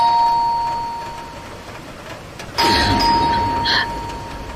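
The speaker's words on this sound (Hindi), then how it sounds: "तभी अचानक से दरवाजे की घंटी ने" A doorbell rings with a bright ding-dong chime, two clear tones standing out over a faint background hum.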